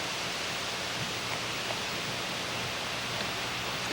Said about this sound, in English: The river's right back here.